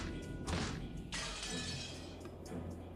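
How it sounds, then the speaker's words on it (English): An antique chair smashes through a glass window in the Umineko video game, a sharp shattering burst followed by a second crash and a trailing clatter of glass and a creaking frame, loud and close. "The glass smashed with a violent sound and the frame groaned and creaked"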